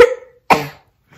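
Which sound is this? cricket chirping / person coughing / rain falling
person coughing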